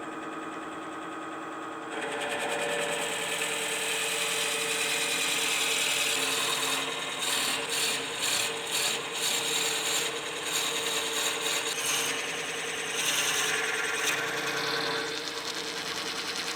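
A Forstner bit bores a recess into a wooden crank-top pepper mill blank on a lathe, a steady grinding rasp that turns rougher and choppier partway through, with no voices.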